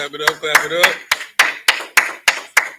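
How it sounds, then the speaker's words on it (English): Sharp claps ring out in a live room, first several quick ones under a voice, then about five separate loud claps spaced roughly a third of a second apart. "Clap it up."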